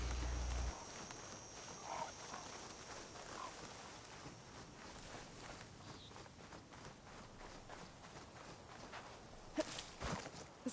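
Hoofsteps of a mount plodding along in the video game Horizon Forbidden West, a soft, steady clip-clop over a rustling, rain-like ambient wash, with a few sharper thuds near the end.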